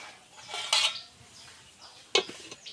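A metal lid is set onto a cooking pot on the stove while fish curry with ridge gourd cooks, with two sharp clanks about a second and a half apart and a little scraping between them.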